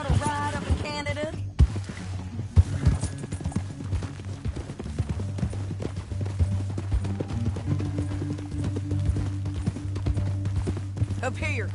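Horse hooves clopping in an uneven rhythm in the video game Red Dead Redemption 2, over a low droning background, with a few sharp knocks and sporadic voices.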